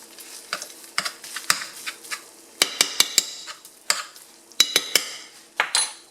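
Corned beef being broken up in a pan with a utensil, giving irregular sharp clacks and scrapes of metal on the pan over a faint sizzle, close and fairly loud with no talking.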